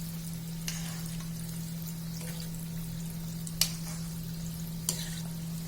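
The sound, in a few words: khoya gulab jamuns frying, stirred with a spoon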